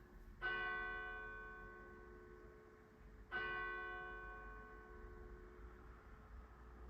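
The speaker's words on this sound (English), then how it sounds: "So the church bells are ringing." Two resonant church bell strikes a few seconds apart, each ringing out and slowly decaying, heard from a distance.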